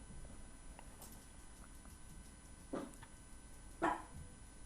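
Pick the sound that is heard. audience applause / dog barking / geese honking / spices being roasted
dog barking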